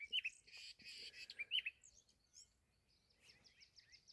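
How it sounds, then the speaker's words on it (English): Wild birds in South African grassland, including pied starlings and masked weavers, call with bright chirps, whistles and rapid twittering phrases, clear and fairly close against a quiet background, with no talking. "The birds that are calling now are not alarming."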